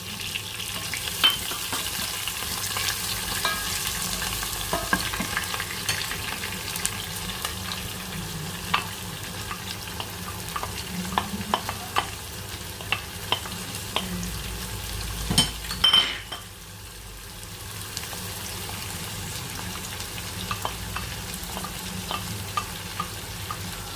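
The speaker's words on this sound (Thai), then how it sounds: "เราก็เริ่มเอา พวกแครอทแล้วก็เครื่องเคียงของเราลงไปผัดได้เลยนะคะ ลงไปผัดรวมกับเนื้อเนี่ยแหละค่ะ" Carrots and other vegetables stir-fry with browned beef for a German Rinderbraten, a steady close sizzle with repeated spatula scrapes and light metallic clinks against the pan, one louder clatter partway through.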